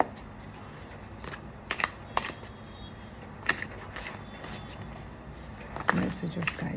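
Tarot cards are shuffled and picked in short crisp flurries of riffling and card slaps scattered through a quiet room, close and light, with soft rustling between bursts.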